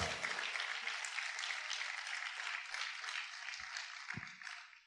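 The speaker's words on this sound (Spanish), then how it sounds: "Vamos a aplaudir más fuerte al Señor en esta hora." A church congregation applauds the Lord during a sermon, many hands clapping together in a steady, moderately distant wash that gradually tapers off, with a couple of low thumps near the end.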